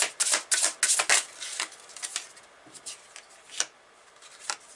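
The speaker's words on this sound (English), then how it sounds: "Let me take the rest of these cards here." A deck of tarot cards is handled and shuffled during a reading, giving quick crisp riffling and papery flicks in close bursts that grow sparser and softer toward the end, with no voice.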